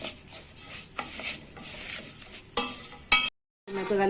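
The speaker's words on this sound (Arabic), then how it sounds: "هنغلف بقى الرز كويس مع الحاجات اللي حطيناها دي" Rice being stirred in a pot to coat it with spices for a chicken-and-rice dish, with a continuous scraping and stirring, a soft sizzle, and a few sharp utensil clicks against the pot near the end.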